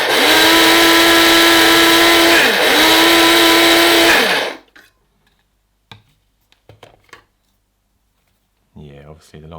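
A Shardor coffee and spice grinder whirs loudly for about four seconds with one brief dip, then cuts off, leaving quiet clicks and a voice speaking briefly at the end.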